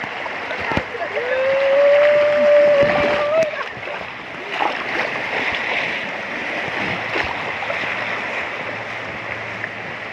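Rushing river water splashing and churning around people tubing at the Sumber Maron water park, a loud continuous wash with people talking and shouting over it.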